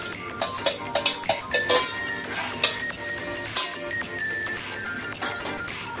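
Tomatoes going into a chicken biryani pot and being stirred, bright sizzling frying with a run of sharp metallic spoon taps against the pot early on, then steady crackle and more scraping, no voices.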